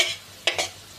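Dry whole spices hitting hot oil in a pan: a soft sizzling hiss fades, then two short, sharp sizzle bursts land close together in a brief moment, with no voices.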